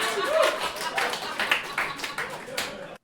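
Comedy club audience applauds after a bit about Atlanta's MARTA Route 62, a scattered crowd clapping at moderate volume that thins out and stops abruptly.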